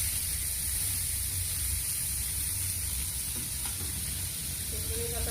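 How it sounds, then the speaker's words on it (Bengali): Onion, chopped tomato and chili paste fry in hot oil for a Bengali whole Bombay duck curry, giving a steady, continuous sizzle that holds at an even level throughout, with no voices. "পেঁয়াজ দিয়ে দিলাম, কাটা টমেটো কাটা, লঙ্কা বাটা দিয়ে দিলাম ওর মধ্যে"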